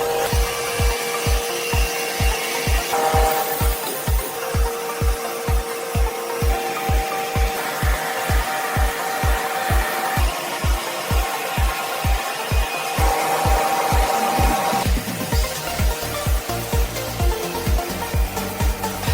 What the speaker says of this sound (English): the large wooden planks are effortlessly and precisely cut with efficiency